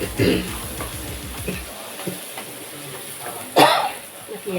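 A couple of short, sharp coughs close by, one early and one louder near the end, over a soft background hiss.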